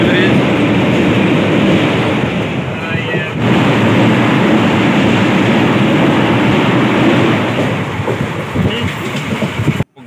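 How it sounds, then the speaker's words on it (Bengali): An Azimganj–Katwa passenger train runs toward Katwa, a loud, continuous rumble of wheels on rails with heavy wind buffeting the microphone from onboard, steady throughout. "আমাদের ট্রেন দেখতে পাচ্ছেন আজিমগঞ্জ থেকে ঢুকছে কাটোয়া"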